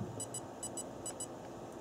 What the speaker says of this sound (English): Now 4 beeps, 5 beeps.